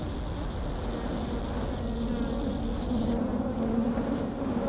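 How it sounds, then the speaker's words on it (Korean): A dense swarm of flies buzzes steadily and close, a constant droning hum that fills a village infested with insects breeding in standing water, with no voices. "바람을 타고 찾아든 파리떼는 물 고인 곳이면 어디서든 생명을 복제하기 시작했고 마을은 점점 파리떼에게 잠식당했다"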